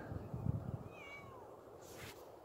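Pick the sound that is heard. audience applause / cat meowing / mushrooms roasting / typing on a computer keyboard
cat meowing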